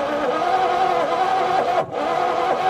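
A small engine runs close by with a steady whirring drone, holding an even pitch with one brief dip before picking back up.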